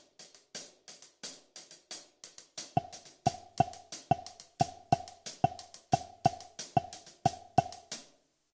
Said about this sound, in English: now I'm going to play the shikere on my right hand,